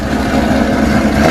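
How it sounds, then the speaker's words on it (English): A modified 1,200 hp wide-body Shelby GT500 engine roars in a loud, sustained, deep rumble close by, holding steady through the short burst without any talk. "Alright, give a little rev."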